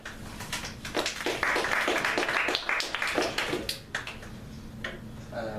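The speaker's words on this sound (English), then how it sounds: "All right, we'll clap." A small group claps for a few seconds, uneven and close, with scattered louder hand claps and a brief fade near the end.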